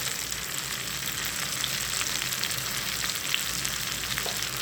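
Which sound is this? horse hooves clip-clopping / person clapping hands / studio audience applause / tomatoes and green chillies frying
tomatoes and green chillies frying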